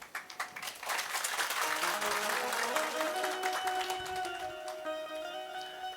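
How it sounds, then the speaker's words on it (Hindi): An audience at a Navratri religious discourse applauding, a few scattered claps building quickly into sustained dense clapping that holds steady then gradually thins out. "अरे आप तो ताली भी बड़ी सुंदर बजा लेते हैं।"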